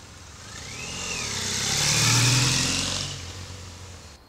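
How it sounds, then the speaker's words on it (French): A motorcycle rides into a forest, its engine swelling from a distant hum to a loud close pass and fading away again, with a faint bird-like whistle early on. "une femme rentre en moto dans la forêt"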